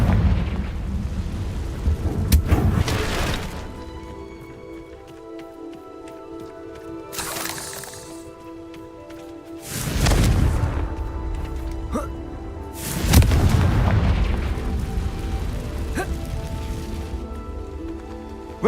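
Confringo fire spell blasts in Hogwarts Legacy burst out as several loud whooshing explosions separated by quieter stretches of crackling game ambience.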